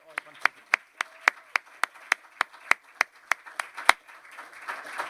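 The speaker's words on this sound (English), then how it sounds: "Please join me in a final applause for our speakers." An audience at a workshop session gives a closing round of applause for its speakers, about a dozen loud, evenly spaced claps ringing out close by before softer mixed clapping fills the final second.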